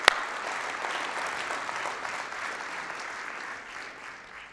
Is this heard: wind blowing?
no